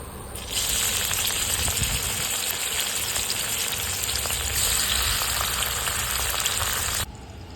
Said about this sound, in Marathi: तेलामध्ये ना आपण कटिंग केलेला टोमॅटो टाकून घेऊया